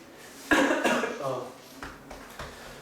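A single close, harsh cough from a teacher during a math lesson, followed by quieter throat noises and a faint clatter.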